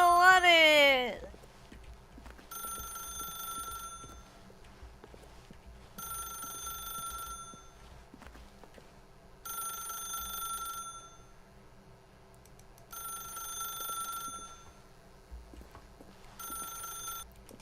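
A telephone in The Stanley Parable video game rings in repeated bursts of electronic trilling, about five evenly spaced rings with quiet gaps between, after a brief rising sweep at the start.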